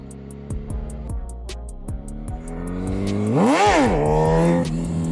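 A motorcycle engine revs during wheelie attempts, with a rising whine whose pitch climbs and then falls around a peak, close and loud over steady ticking.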